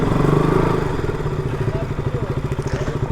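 A KTM RC 200 motorcycle engine idles and putters steadily nearby, its rapid rhythmic firing pulses growing more distinct as it settles, with no talk over it.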